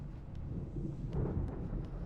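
A low, rolling rumble of thunder from a storm in the video game Alan Wake, steady and fairly faint, with a faint swell near the middle and no voices.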